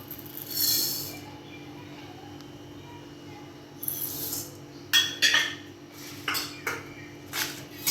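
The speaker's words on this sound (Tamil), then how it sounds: "முதல்ல கடலைப்பருப்பு உளுத்த பருப்பெல்லாம் வறுத்துன்றோம்" Chana dal and urad dal being dry-roasted in a pan for a shallot thuvaiyal, with several scattered metallic scrapes and clinks of a spoon against the pan over a quiet background.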